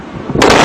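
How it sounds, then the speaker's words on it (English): A sonic boom from a supersonic aircraft begins as a low rumble and breaks into a sudden loud, broad blast that holds at full strength to the end. "Aircraft actually usually produce two booms."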